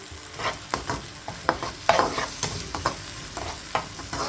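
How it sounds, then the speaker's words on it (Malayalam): Thick vegetable curry masala with curd being sautéed and stirred in oil for a North Indian mixed veg curry, with repeated scraping stir strokes over a soft close sizzle, no voices. "തൈര് ചേർത്തിട്ട് എണ്ണ തെളിഞ്ഞ് വരുന്നത് വരെ വഴറ്റിയെടുക്കുക"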